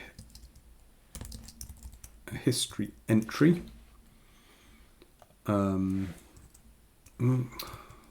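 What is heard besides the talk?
computer keyboard typing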